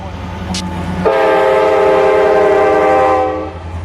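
A loaded freight train hauling dry rock from a phosphate plant in Florida's Bone Valley sounds a loud, steady horn blast lasting several seconds, layered over the close rumble of the passing train.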